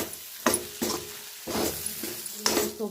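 Gram flour and masala roasting in a pan, heard as a few bursts of sizzling and scraping as the mixture is stirred and turned, close and fairly loud.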